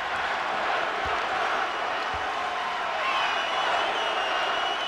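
A hometown college basketball crowd at St. John's hosting UConn roars after the visiting coach is ejected, a steady wash of cheering and shouting with a few scattered claps, heard from within the arena.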